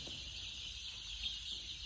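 Eleven-day-old poultry chicks in a shed, a steady, continuous chorus of high-pitched peeping from many birds together, moderately loud with no talking.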